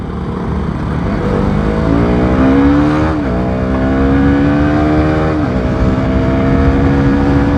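A 150cc motorcycle engine revs loudly up through the gears as it accelerates, its pitch climbing steadily and then dipping briefly at two shifts before rising again. It stays close and continuous throughout, with no talk.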